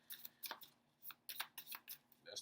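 A deck of animal spirit cards is shuffled in a run of quick, soft riffling and slapping bursts at close range, irregular and fairly quiet.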